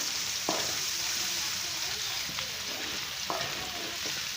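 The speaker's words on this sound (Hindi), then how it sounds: "अच्छी तरह फ्राई करना है, इसको मिक्स करना है और अच्छी तरह भून लेना है घी में।" Red chili, ginger and garlic paste frying in ghee makes a steady, close sizzle, with occasional scraping strokes as it is stirred and no talk over it.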